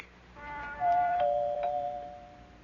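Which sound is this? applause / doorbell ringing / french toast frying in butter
doorbell ringing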